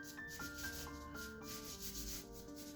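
Soft pastel rubbed across paper while working dark sections of a flower painting, a close, steady scratchy rasping with short repeated strokes, faint and continuous, with no talking.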